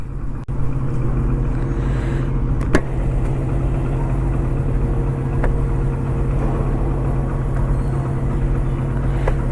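Delivery two-wheeler engine idling after being started, a steady, loud low-pitched rumble that holds continuously with a brief click near the start.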